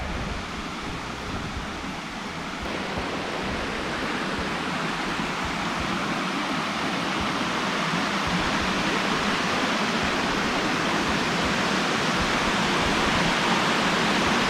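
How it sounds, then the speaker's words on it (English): Water pouring over the edge of Issaqueena Falls near Walhalla, South Carolina, a loud, constant rushing roar heard close by that swells slightly over time, with no talking. "There's the water. Looks like it's starting to head over the edge there."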